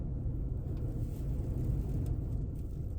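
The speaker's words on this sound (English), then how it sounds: "You hear the wind?" Wind gusting across a free desert campsite on the road from Las Vegas into Death Valley, a steady low rumbling roar buffeting a parked car, continuous and fairly loud with no voices.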